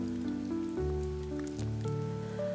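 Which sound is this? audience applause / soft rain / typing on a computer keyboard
soft rain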